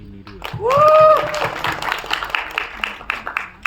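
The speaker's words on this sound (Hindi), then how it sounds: "इनके लिए बहुत सारी तालियां" A burst of applause and cheering from a crowd at a film trailer launch event, loud and sustained for a few seconds, with a voice over a mic and some music underneath.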